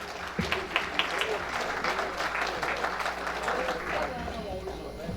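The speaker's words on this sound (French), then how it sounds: "on a demandé nous pour un applaudissement pour dire ça" Audience at a tribute event marking a 70th anniversary applauds, with scattered clapping and a few sharper claps against a murmuring crowd, and voices talking underneath.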